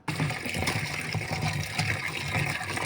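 Vegetables being rinsed in water in a village kitchen: a steady, fairly faint splashing and pouring of water that continues without a break.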